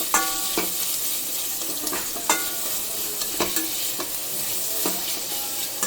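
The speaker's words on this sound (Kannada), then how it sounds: "ಇವಾಗ ಎಣ್ಣೆಲೆ ಫ್ರೈ ಆಗಲಿ." Capsicum and carrot fry in oil in a pan while being stirred, with a constant crackling sizzle, scattered spoon clicks and a scrape every second or so, all close and steady.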